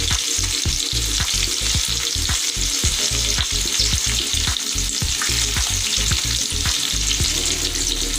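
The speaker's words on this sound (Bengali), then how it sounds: "সেই পেঁয়াজ কুচিগুলো দিয়ে দিলাম তেলে" Chopped onions and garlic fry loudly in hot oil, a dense, steady sizzle with rhythmic stirring scrapes running throughout, close up and with no voices.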